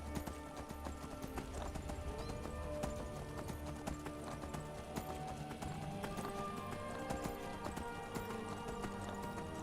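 Horse hooves clip-clop steadily in the Skyrim video game, a continuous, fairly loud galloping rhythm with occasional neighs, set over dense background game music and ambience.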